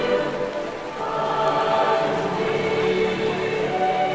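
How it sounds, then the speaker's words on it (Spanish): Steady rain falls, a continuous soft hiss of drops on a surface with no pauses, moderately loud and even throughout. "Pero no solo eso, también es la lluvia"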